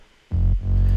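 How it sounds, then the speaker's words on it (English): A synth sub bass made from a plain sine wave hits in two deep, sustained notes, loud and alone, with a short dip between them. "It's just a sine wave I made in Silent"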